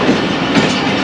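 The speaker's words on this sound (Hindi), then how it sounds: "गुजरात रेलवे स्टेशन को आहिस्ता आहिस्ता क्रॉस करते हुए" Train rolling slowly through Gujrat railway station, Pakistan, on the Subak Kharam service, a loud, close, steady rumble with faint wheel clatter throughout.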